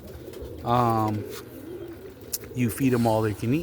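Roller pigeon hens in a family loft coo in low, throaty bursts, one near the start and a longer run toward the end, while someone talks between them.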